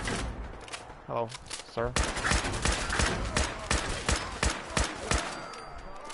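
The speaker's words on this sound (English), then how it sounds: "I hear, obviously, bad guys firing weapons" Enemy gunfire in Fallout 4, a string of sharp shots in quick bursts, some near and loud, with a brief voice speaking early on.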